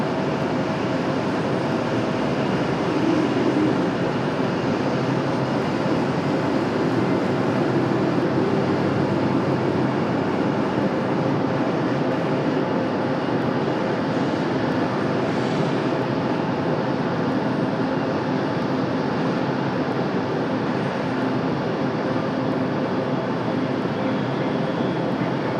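JetBlue jet airliner engines idle and spool as the aircraft prepares to depart Raleigh-Durham for San Juan, a steady, broad roar holding for the full stretch with no talk.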